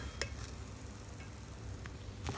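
Freshly cooked, steamy rice being stirred in a pot, a soft continuous hiss with a few sharp spoon clicks against the rim.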